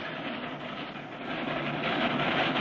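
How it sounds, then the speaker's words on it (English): A small train in a cartoon rumbles steadily along, its rolling noise growing slightly louder as it passes over a high bridge. "As the little train starts across the bridge, Clutch and Company blown to bits."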